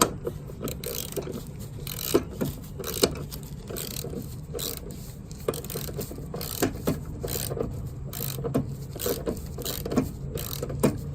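A riding lawn mower blade bolt is turned in by hand, giving close, repeated metallic scraping and ratcheting clicks in an uneven rhythm with occasional sharper knocks.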